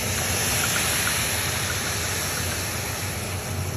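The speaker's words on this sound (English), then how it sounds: "that's right where I want to start adding the wine. So I'm just using a bottle of white wine here." White wine from a bottle poured into risotto rice cooking in a hot pan, a steady dense hiss and sizzle of liquid hitting the pan, loud and continuous throughout with no talking.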